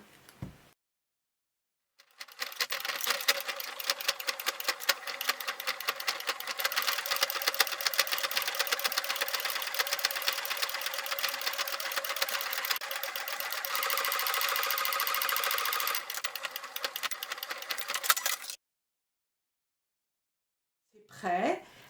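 A sewing machine stitching along the edge of a fabric writing case, running in one long, fast, steady mechanical whir for about sixteen seconds, framed by near-silence and a faint sound at each end.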